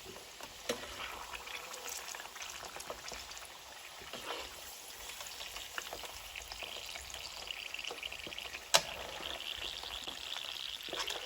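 Yam frying in hot oil, a steady crackling sizzle with scattered pops and one sharp clatter near the end, heard alone at moderate, close range.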